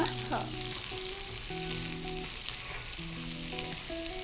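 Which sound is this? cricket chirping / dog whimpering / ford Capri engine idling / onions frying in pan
onions frying in pan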